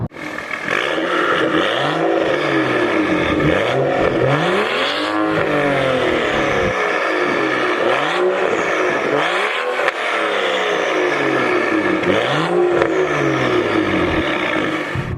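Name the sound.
BMW 335i Performance Edition engine and exhaust sound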